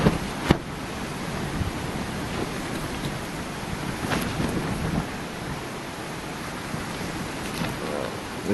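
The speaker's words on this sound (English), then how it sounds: "This wind is just constant," Strong wind buffets a hammock camp in bushland, producing a constant loud roaring rush with occasional sharper gusts and flaps against the fabric.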